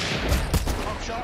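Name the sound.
gunshot in a video game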